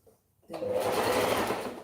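A sewing machine stitches fabric starting from the center, beginning after a short quiet moment and then running in one steady, rapid hum close by.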